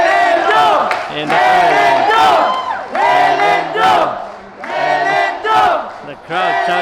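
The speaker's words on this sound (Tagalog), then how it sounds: "the crowd shouting Milindo" A boxing arena crowd chants the fighter Milan Melindo's name in loud, rhythmic repeated bursts, a dense mass of voices rising and falling for several cycles.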